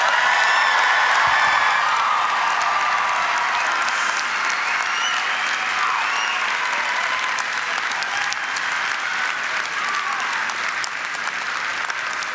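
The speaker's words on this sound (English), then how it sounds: "Let's give our newest KSU alumni one more round of applause." Sustained, dense applause from a large audience at a university commencement ceremony, steady and loud throughout with no letup.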